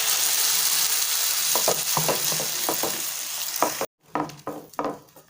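Ground tomato paste hits browned onions in a pan for a Punjabi-style rajma curry, with a loud close sizzle and repeated scraping stirs, then a brief pause before stirring and frying resume.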